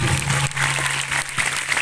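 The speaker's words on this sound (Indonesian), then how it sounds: "Tepuk tangan untuk Pak Bupati Batanghari." Audience applause for the regent of Batanghari at a religious lecture gathering, a steady dense wash of clapping through the short stretch with a faint sustained hum underneath.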